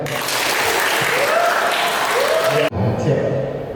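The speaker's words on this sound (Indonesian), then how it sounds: "Silakan tepukannya." Audience applause at an inspirational seminar session, a dense steady patter of many hands clapping throughout, with a voice talking over it and a brief drop before the clapping resumes.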